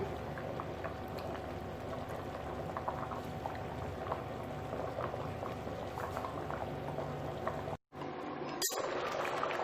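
Rice boiling in water in a pot for Afghan-style chicken pulao, a steady loud bubbling and rumbling that runs alone until a brief cut of silence near the end.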